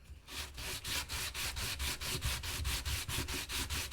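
Steady, rhythmic back-and-forth sanding of a small 1:12 scale wooden Nicholson workbench, close and continuous with regular strokes about every quarter second, no voices.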